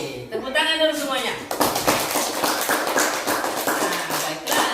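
Classroom of schoolchildren clapping hands together on cue from the teacher, a burst of rapid patterned claps following a brief spoken prompt, close and lively.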